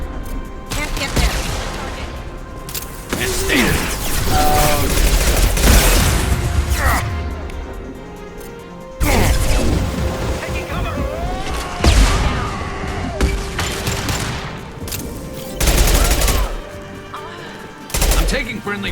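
Gunfire in the Mass Effect 2 video game, with dense bursts of rapid shots, booms and impacts in repeated volleys and short lulls between them.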